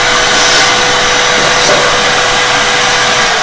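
A vacuum cleaner runs with a loud, steady motor whine and rushing airflow while ash and dust are brushed into it during pellet stove cleaning, with no talking.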